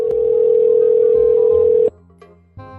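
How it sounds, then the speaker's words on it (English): A steady telephone dial tone hums loud and close for almost two seconds as a call is placed, then cuts off into a faint click and brief quiet line noise. "Sebastian made a very special phone call to a very special fan."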